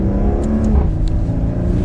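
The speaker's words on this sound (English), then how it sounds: "We'll make the exhaust sound a little bit better from second gear here." A 2021 Maserati Quattroporte S GranSport sedan in sport mode pulls in second gear, its exhaust droning in a steady low, rising growl from inside the cabin, with a few faint high ticks over the engine note.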